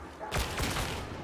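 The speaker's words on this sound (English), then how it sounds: "I'm going faster as a result of that explosion behind me." A video game explosion booms behind the player at close range, one broad blast with a second burst just after, then a rumbling tail that fades under the game's ongoing noise.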